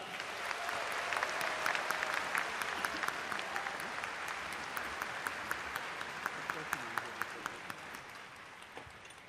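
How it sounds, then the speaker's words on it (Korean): A large crowd gives sustained applause to the performers at a Liberation Day ceremony, a broad hall-filling wash of clapping with sharp individual claps standing out and a voice heard over it. "소중한 공연 만들어주신 모든 출연진분들께 다시 한번 큰 박수를 부탁드립니다"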